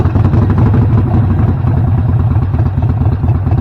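A motorcycle engine idles steadily after starting, a close, even low rumble with a light mechanical clatter running unbroken throughout.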